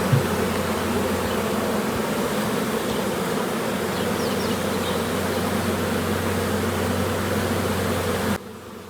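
Honey bees buzzing inside a Canadian beehive, a dense, steady close-up drone that fills the whole stretch before cutting off abruptly near the end.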